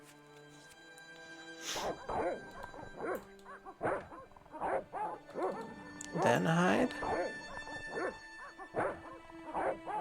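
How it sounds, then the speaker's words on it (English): Dogs in the video game Broken Sword bark and yip in repeated bursts, some clustered and whimpering, with someone talking over them. "maybe get the dogs barking"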